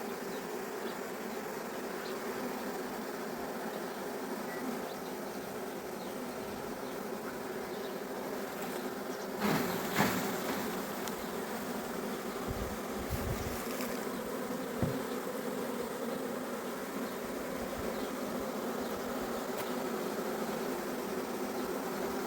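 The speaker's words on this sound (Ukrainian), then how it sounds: "зараз всі бджоли самостійно підуть у вулик" Steady, dense buzzing of a honeybee swarm fills the whole stretch, with a few brief louder bursts near the middle.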